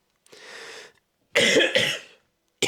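A raspy breath, then a pair of harsh coughs in quick succession, close by, with another starting right at the end.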